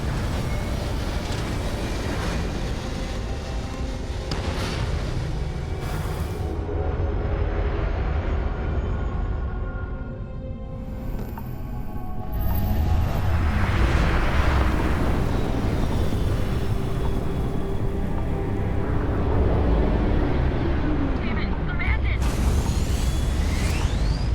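A Basilisk spaceship in Starfield lifts off with a sustained, loud engine roar and rushing whooshes that swell partway through, while a voice speaks over the rumble.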